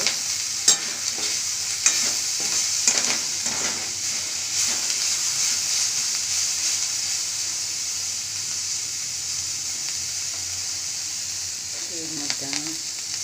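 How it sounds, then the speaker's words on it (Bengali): Onion and cabbage stir-frying for chowmein make a steady sizzling hiss, broken by repeated clinks and scrapes of a spatula against the pan. "পেঁয়াজ কাটা আর বাঁধাকপিটা দিয়েছিলাম, এটা হালকা ভাজা হয়ে এসেছে"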